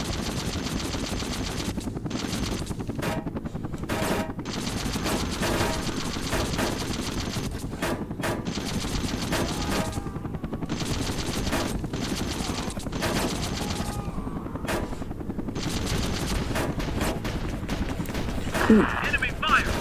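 Enemy gunfire rattles continuously in Air Conflicts Vietnam, dense machine-gun bursts mixed with engine drone and game sounds throughout, while a person talks over it.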